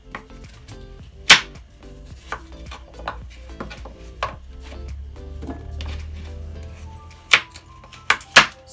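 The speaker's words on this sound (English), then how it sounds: "we're just going to slice up the pumpkin." A knife slices a pumpkin into small pieces on a board. Sharp, irregular chopping knocks come close and distinct, with a few louder strikes standing out over a quiet kitchen background.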